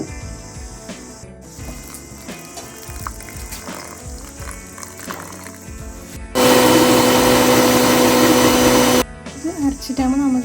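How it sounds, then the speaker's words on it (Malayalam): A kitchen mixer grinds coconut and chilies into a paste, starting abruptly as a loud, steady whir that runs for a few seconds and then cuts off. Talk and kitchen clatter come before and after it. "ഈ തേങ്ങയും മുളകും കൂടി നമുക്ക് നല്ലോണം അരച്ചെടുക്കണം."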